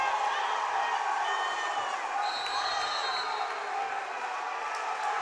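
A crowd at a high school boys basketball game cheers and roars after a dunk, loud and sustained, with a commentator's voice over it.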